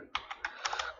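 Quick, light keystrokes typing text on a computer keyboard, about eight soft clicks in a rapid, slightly uneven burst, close and fairly quiet.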